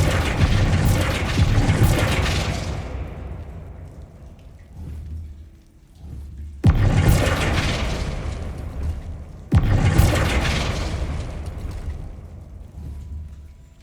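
Spell impacts from the Flipendo charm in Hogwarts Legacy on PS5: three loud, sudden bursts with a rain-like crackling wash, each fading over a few seconds, and no speech.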